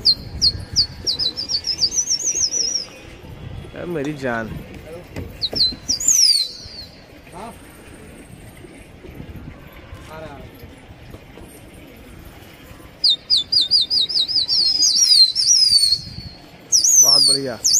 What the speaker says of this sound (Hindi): फिर उठा दिए भाई कबूतर फिर से।